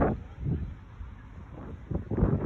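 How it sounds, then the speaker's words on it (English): Strong gusting wind during a windstorm under a high wind warning in Winnsboro, South Carolina, buffeting the microphone in loud rumbling surges with brief lulls between. "new windstorm here in Winnsboro, South Carolina, and the winds are going strong here"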